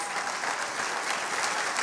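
Steady congregation applause at a pastors' retreat church service, a continuous wash of many hands clapping at moderate level with no pauses.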